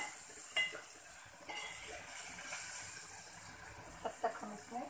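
Onions fry in a pan for a cauliflower and potato curry, giving a steady, bright sizzling hiss with occasional stirring scrapes, soft and close, while a voice talks faintly at times.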